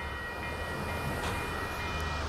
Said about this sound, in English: While this train is going on the coast sub.